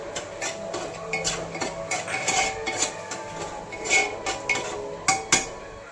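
Spoon stirring pasta masala in a metal pan, a busy run of scraping and clinking strikes with several louder knocks near the end, close up and without talking.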